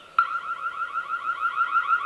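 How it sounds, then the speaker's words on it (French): A Reolink Duo 2 WiFi security camera sounds its siren alarm: a loud, close electronic wailing tone that starts abruptly and repeats in a rapid warbling pattern, heard alone without talk. "L'alarme sonore, ah oui, l'alarme sonore"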